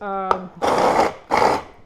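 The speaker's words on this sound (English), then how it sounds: "blender that my daughter gave me for Christmas." A small kitchen blender, a Christmas gift, runs in two short, loud whirring bursts after a brief voice, each lasting about half a second with a pause between.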